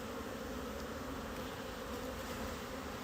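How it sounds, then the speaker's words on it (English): Dense, continuous buzzing of many honeybees up close in a strong, full hive, a steady droning swarm with no voices. "That's a really strong hive right there. Really nice to see it so full of bees."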